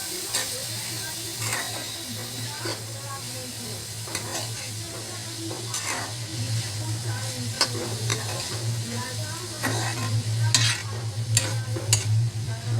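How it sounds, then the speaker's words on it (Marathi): Chopped ridge gourd sizzles and fries in a pan while a spoon stirs it, a steady hiss with scraping strokes and occasional sharp clinks, close and continuous, with a low hum underneath. "भाजी सुंदरपैकी परतून घेऊया"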